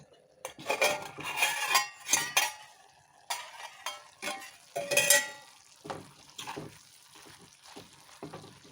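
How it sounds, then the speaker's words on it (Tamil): A metal lid lifts off a pot of boiling potatoes being cooked for an Onam sadya dish. Several clanks and scrapes of metal cookware come in bursts, close and fairly loud, with quieter gaps between them. "இப்போ ஒரு அஞ்சு நிமிஷம் ஆச்சு நம்ம இதை திறந்து பார்த்துக்கலாம்"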